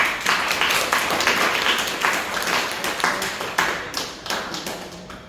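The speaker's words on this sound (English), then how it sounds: "Let's give her a round of applause." Audience applause at a Toastmasters club meeting, a small group clapping in a close, uneven patter with distinct individual claps standing out, tapering toward the end.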